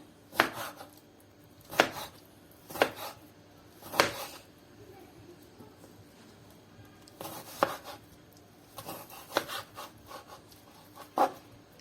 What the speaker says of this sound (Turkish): Şimdi küp küp doğruyorum.